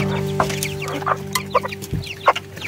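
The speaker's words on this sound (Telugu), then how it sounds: "ఇందులో ఈ దడిలో కోడి పిల్లలు ఉన్నాయి" Chickens and chicks in a fenced pen on a hilltop cluck close by, a busy run of short repeated clucks and squawks filling the whole moment.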